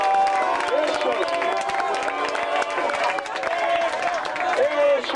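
Protest crowd outside the Greek parliament applauding over the Schengen agreement, continuous clapping mixed with loud chanting and shouting voices, dense and close throughout.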